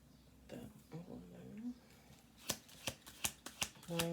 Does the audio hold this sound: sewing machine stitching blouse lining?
no